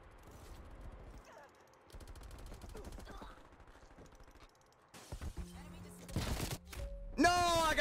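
Bursts of submachine-gun fire from a first-person shooter game, sharp rapid volleys at moderate volume with pauses between, alongside other game effects.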